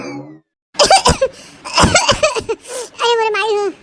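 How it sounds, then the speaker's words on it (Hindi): A person gives several harsh, close coughs in quick bursts after a brief silence, followed by strained voiced sounds and talk. "मने खांसी आवत बा है"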